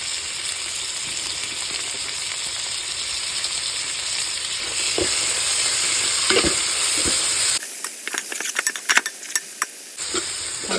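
Tomatoes and green chillies fry in a pan for a beef curry, a steady close sizzle with scraping stirs; near the end the hiss thins and a few sharp utensil clicks stand out.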